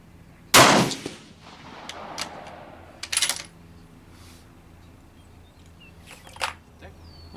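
Gunshots at an outdoor shooting range fired from a shooting seat: one loud sharp report near the start, then fainter, spaced shots with their echoes rolling off afterwards.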